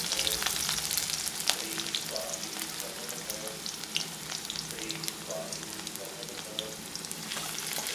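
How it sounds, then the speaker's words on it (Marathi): Garlic and ginger sizzle steadily in hot oil in a home kitchen, a dense continuous frying hiss with faint clinks, while preparing restaurant-style veg Hakka noodles. "आता तेल व्यवस्थित गरम झालं आहे, मी त्यामध्ये लसण टाकून घेते, त्याचबरोबर आलं पण टाकून घेते"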